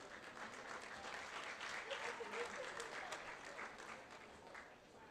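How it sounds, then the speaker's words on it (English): Steady applause from a crowd at a reserve grade men's football grand final presentation, clapping for the match officials, sustained and moderately loud across the whole stretch without a break. "Another round of applause for our match officials."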